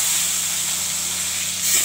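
Rohu fish pieces rubbed with salt and turmeric go into hot oil and hiss loudly and steadily, the sizzle swelling slightly at the end.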